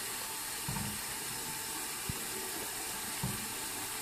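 Steady hiss of water running from a bathroom faucet into a sink as a toddler's hands are rinsed, a constant close spray with a few soft splashes and thumps, no voices.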